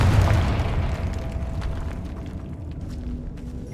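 A Confringo spell explodes in Hogwarts Legacy with a deep, rumbling boom that hits loud at the start and slowly fades into a low roar.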